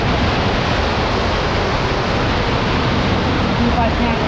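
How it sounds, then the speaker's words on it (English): A large waterfall roars inside a forest cave, a loud, constant wash of falling water that fills the space and never lets up. "this epic waterfall that Ryan's climbing up"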